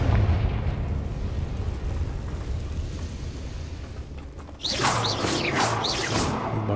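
A Confringo spell explosion in Hogwarts Legacy, a loud burst erupting suddenly over a rumbling game background, followed by crackling debris.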